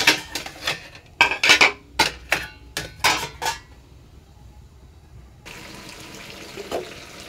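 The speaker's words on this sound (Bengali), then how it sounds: "এখানে প্লেট বাটি দিয়ে রাখছি।" Plates and bowls clatter down one after another in a home kitchen, giving about seven sharp ceramic knocks in a quick series. Quiet follows, then a steady running-water hiss sets in near the end.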